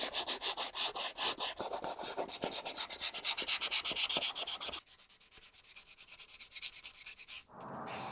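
Rhythmic back-and-forth sanding strokes rasp over a primed plastic and sculpted axe prop, close and steady, then briefly turn softer and quieter before picking up again.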